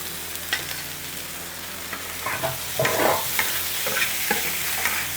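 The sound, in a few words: stir-frying Castanopsis tofu with meat, carrot and chili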